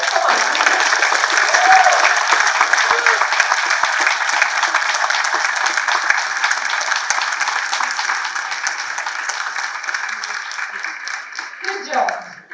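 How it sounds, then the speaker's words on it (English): Loud, sustained audience applause fills a conference hall at EDGE 2024, dense clapping holding steady for several seconds before tapering near the end, with voices and cheers mixed into the crowd. "we must clap louder"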